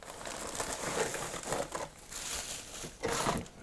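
A plastic packaging bag crinkles and rustles in irregular close bursts while a parcel holding a 1/35 scale model kit with figures is unpacked.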